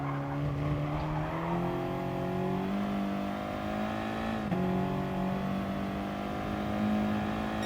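An Audi TT Cup Gr.4 race car engine in Gran Turismo Sport drones steadily at high revs on the Alsace circuit. The pitch climbs through gear changes with brief dips between them, close and continuous, with no talking.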